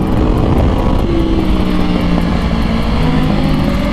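An Aprilia RSV4 race motorcycle runs hard on the COTA race track, its engine a loud, continuous, close roar with a shifting pitch throughout.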